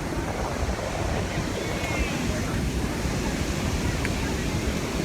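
Rushing river water at the base of the Iguaçu waterfalls roars as a dense, constant wash, with wind buffeting the microphone and a crowded lookout around it.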